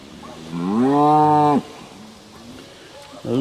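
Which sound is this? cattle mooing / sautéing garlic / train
cattle mooing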